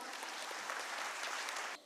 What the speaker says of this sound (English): Please join me in welcoming Dr. Suraj S D